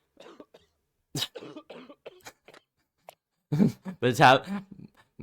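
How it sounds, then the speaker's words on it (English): A person coughs several times in short bursts, with brief speech and throat sounds between the coughs. "Teacher starts coughing."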